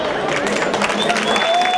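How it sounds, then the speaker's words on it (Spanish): Crowd at a school basketball game for third and fourth place applauding and cheering a player, a brief burst of clapping and crowd noise with whistle-like tones near the end. "Un aplauso a la grande jugadora número 10."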